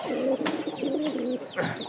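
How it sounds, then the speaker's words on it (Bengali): Domestic pigeons coo nearby in a series of low, throaty, rolling calls with short pauses between them, with no talk over them. "আমাদের কাছে বেশ কিছু কবুতর আছে, আর সবচেয়ে আকর্ষণীয় একটা কবুতর দেখেন"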